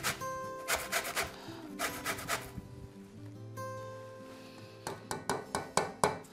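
Oranges are rubbed against a zester or grater, giving repeated rhythmic rasping strokes in short bursts with brief pauses, close and fairly quiet.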